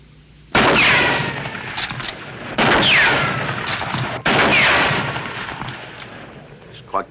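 Three loud rifle gunshots ring out about two seconds apart, each a sharp crack with a long echoing tail, during a shooting demonstration at Saint-Cloud in November 2023.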